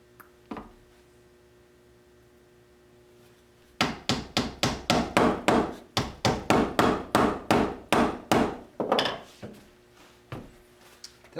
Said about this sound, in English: I'll go ahead and I'll set 2-inch dowels